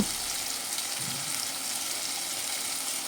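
Water poured into a pan of sizzling paneer bhuna masala, giving a steady, dense hiss of frying and bubbling that holds evenly throughout, close and alone with no talk.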